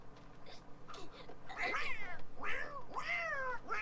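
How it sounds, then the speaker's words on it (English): Cats fight and yowl in The Sims 4, several rising, drawn-out caterwauls and meows that grow louder and overlap toward the end, following softer scuffling sounds, with no talk. "And the cats are just like fighting in the background."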